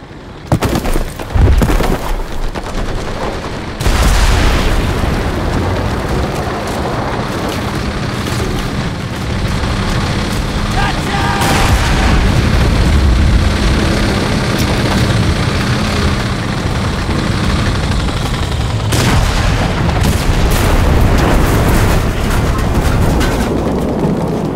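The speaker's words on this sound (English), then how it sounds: "We need artillery support!" Loud, continuous World War II battle din in the game Enlisted, with booming artillery fire and explosions, heavy rumbling engine noise and sharp blasts recurring throughout.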